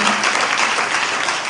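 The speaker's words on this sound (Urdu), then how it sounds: "آئیے پاک روح کے لیے تالیاں بجائیں گے" A church congregation applauds during a worship service, a short burst of dense, even clapping close and loud throughout.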